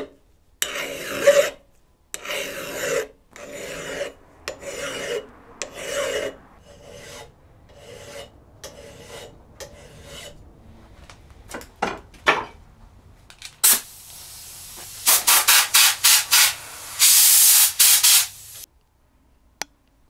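A file rasps in repeated rhythmic strokes along the edge of a Council Tool 5 lb splitting axe, putting a bevel on the steel. The strokes are close and crisp, with a few brighter, harsher scraping bursts near the end.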